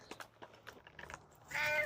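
A male indoor-outdoor house cat meows in short separate calls close by, then lets out a louder, longer drawn cry at the end.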